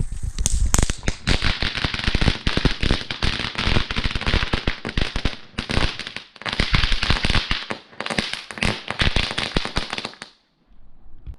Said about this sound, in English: we're doing a small Standard Fireworks radar fountain here